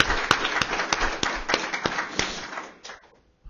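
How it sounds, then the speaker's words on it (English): A small conference audience claps in a scattered round after an Arctic shipping talk, individual claps standing out sharply before the applause thins and fades to quiet. "Let's give him a round of applause."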